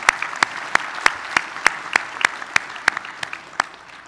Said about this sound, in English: if everybody give a round of applause to these guys for traveling out here